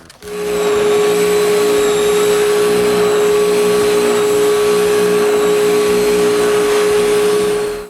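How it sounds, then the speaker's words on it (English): A loud vacuum extractor roars steadily while moldings are sanded with a sandpaper block drilled for dust extraction, starting up quickly and holding an even drone for several seconds, with no speech. "I can finally stick the sandpaper on the block and sand the moldings."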